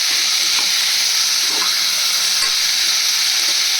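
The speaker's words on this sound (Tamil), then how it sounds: "காய்கறியும் நம்ம ஆட் பண்ணிக்கலாம். வதக்கிக்கலாம்." Vegetables sautéing in a pan for sambar rice, a steady close hiss of frying with occasional stirring scrapes and no talk.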